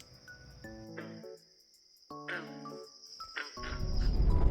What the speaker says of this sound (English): You can hear the frogs in there all night long.